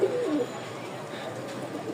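Soft coos of Giribaz pigeons repeat over a low background hum.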